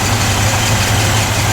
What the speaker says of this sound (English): let's have a listen to the engine here.